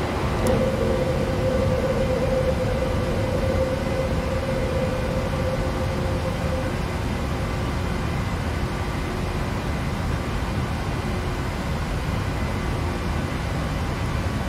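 Steady broadband roar of an airliner climbing after takeoff on a Lyon to Paris Orly shuttle, with a brief whine early on as the landing gear retracts, continuous and even throughout.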